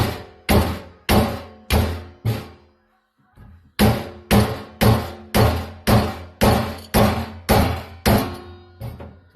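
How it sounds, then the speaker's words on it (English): A hammer knocks a brake caliper piston out of a Honda 600 caliper during a rebuild. There are five sharp, evenly spaced metallic thunks, a short pause with a faint tap, then seven more steady blows in a regular rhythm. "then you just hammer it down"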